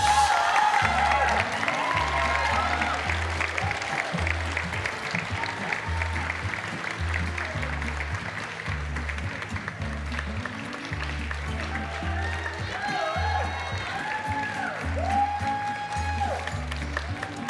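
Audience clapping at a BYU-Idaho apparel design fashion show, a steady wash of applause running under loud, bass-heavy music with a pulsing beat throughout.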